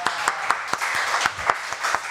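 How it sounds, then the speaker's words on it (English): An audience gives a round of applause at a live music show in the Cambridge Union, with a steady run of distinct claps and cheering mixed together in a short burst. "We'll do a round of applause."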